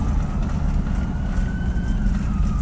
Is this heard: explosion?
no